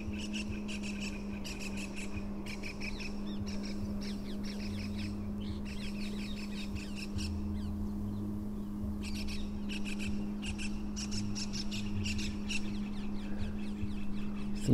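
Various birds call outdoors in short bursts of chirps and squawks, fairly faint and intermittent, over a steady low hum with brief pauses between flurries.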